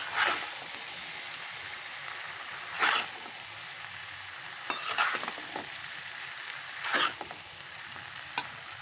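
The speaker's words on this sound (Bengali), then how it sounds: "এখন আমি নেড়ে দিচ্ছি।" Chicken, vegetables and noodles sizzle and fry in a pan while being stirred, a constant crackling hiss broken by louder scraping stirs roughly every two seconds.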